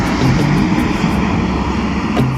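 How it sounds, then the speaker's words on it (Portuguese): A small private jet on landing approach, its turbines producing a steady, loud, broadband roar that fills the scene, with no talking. "O barulho das turbinas logo domina o ambiente."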